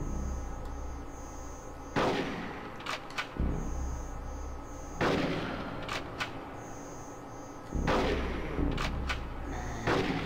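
Shotgun blasts in Conker's Bad Fur Day, five or six loud booming shots at irregular intervals, each followed by a short ringing tail, over a steady low game ambience with no talking.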